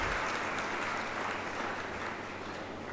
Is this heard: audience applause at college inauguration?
yes